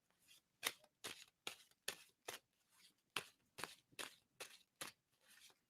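A deck of playing cards is shuffled in a steady run of about a dozen crisp riffling bursts, close but fairly quiet, with no voices over it.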